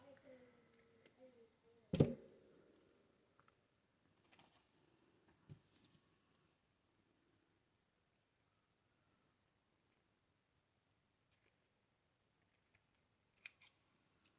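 Scissors snipping apart Christmas cluster pieces: one sharp, close snip followed by a few faint scattered clicks and small cuts amid near-silence.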